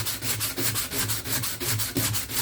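Steady back-and-forth sanding of rust spots on a cargo van body, a close, loud abrasive rasp repeating in quick even strokes, heard alone.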